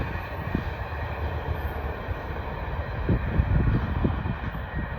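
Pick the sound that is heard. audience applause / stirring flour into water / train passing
train passing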